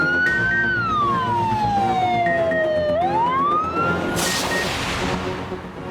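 A wailing emergency siren from an ambulance convoy heads toward a hub, its long pitch sweep sliding down and back up, loud and close, with steady traffic and street noise underneath and a burst of broadband noise near the end.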